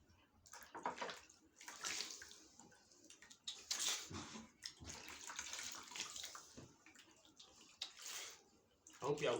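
Water splashing during face washing with red soap and a native sponge: irregular bursts of splashing and running water, fairly faint and close, with a voice speaking at points.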